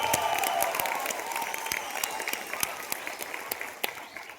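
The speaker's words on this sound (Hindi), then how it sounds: "वो सभी महान लीडरों के लिए एक बार शानदार ताली" An audience at a program in Surat claps steadily and warmly, a dense, sustained patter of many hands that fills the whole stretch and fades slightly toward the end.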